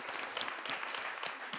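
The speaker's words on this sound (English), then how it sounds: "Give a round of applause." Audience applause at a talk or podcast recording, a steady patter of many hands clapping with sharp individual claps standing out, fairly faint and continuing throughout.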